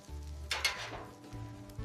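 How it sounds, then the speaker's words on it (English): Four pancakes sizzling on a hot griddle give a soft, quiet frying hiss, with a brief brighter crackle burst partway through over a low hum. "4 perfect golden pancakes sizzling on the griddle"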